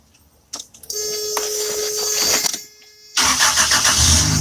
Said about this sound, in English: Lord Jesus, help our car start and help it be fixed.